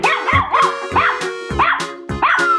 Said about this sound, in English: Dog.